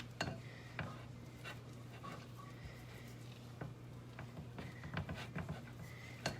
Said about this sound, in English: And then pretty much just give this a stir.